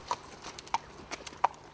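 Hooves of a horse walking during a hippotherapy session at a rehabilitation centre, a few soft, spaced clip-clop steps, faint and fairly distant, with no talk.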